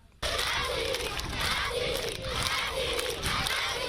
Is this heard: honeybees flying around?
no